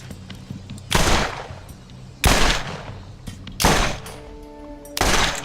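The Masher shotgun in the game Borderlands fires four loud, heavy blasts spaced about a second and a half apart, each cracking sharply and then tailing off into a short rumble.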